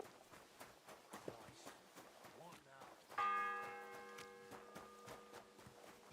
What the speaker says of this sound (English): The sixth bell. Half the time is up.